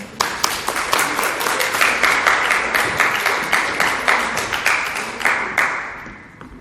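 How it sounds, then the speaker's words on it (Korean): Dense, loud applause fills a church as the congregation welcomes back its former accompanist, the many claps blurring into a continuous roar that holds steady and then fades out at the end. "예, 박수 한번 보내주실래요?"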